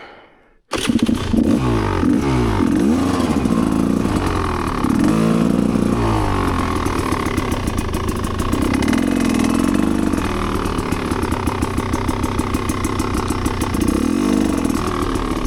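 Motorcycle ridden through deep sand on a forest trail, its engine droning loud and close for the whole stretch with revs rising and falling, no talk over it.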